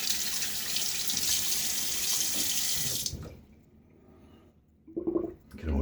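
Tap water runs steadily into a shaving bowl for about three seconds, then cuts off, leaving near silence before a brief clink at the end.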